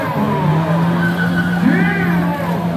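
A Chevrolet Cobalt Pro Mod drag car with a 2JZ billet engine launches down the strip, its loud, rising engine howl and tire squeal close by, with a strained shifting tone midway through.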